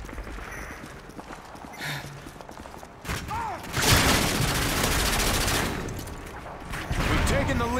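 Bursts of automatic gunfire in Call of Duty Modern Warfare 2 multiplayer, loud sustained volleys in the middle and again near the end, with game noise and quieter moments between.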